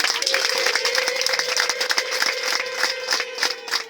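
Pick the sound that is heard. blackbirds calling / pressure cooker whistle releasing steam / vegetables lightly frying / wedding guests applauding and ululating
wedding guests applauding and ululating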